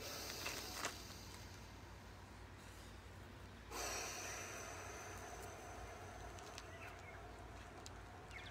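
Slow deep breaths taken during an outdoor morning breathing and stretching session in sunny countryside, long soft inhales and exhales, one louder sharp intake partway through, faint and close with no talking.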